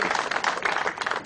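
Applause rising at a Rotary Club anniversary celebration in Lubumbashi, marking sixty years of activity: dense, continuous clapping from a gathered crowd that holds steady, moderately close and loud throughout with no break.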